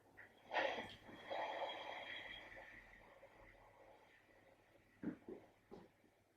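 Slow, raspy ujjayi yoga breaths drawn through a tightened throat, a long ocean-like hiss followed by quieter, shorter breaths, close and soft.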